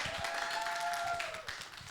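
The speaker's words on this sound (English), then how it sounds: "Another round of applause for Mizo Cardinal Choir." Applause for the Mizo Cardinal Choir at a church inauguration event, steady crowd clapping throughout with a sustained musical tone running beneath.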